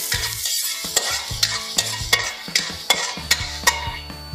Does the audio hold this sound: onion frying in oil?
yes